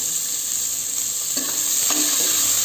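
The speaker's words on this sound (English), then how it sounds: "I'm going to add a chopped onion followed with 1 slit green chilli." Chopped onion and a slit green chilli sizzle and fry steadily in a hot pan, a constant close hiss with a couple of faint stirring taps, no voices.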